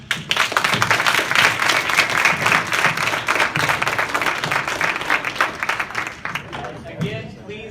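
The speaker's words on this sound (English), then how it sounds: "Remind the audience to withhold applause while the debaters are speaking." An audience at a Texas state political debate breaks into sustained applause, dense clapping that stays loud for several seconds and then thins out as it fades.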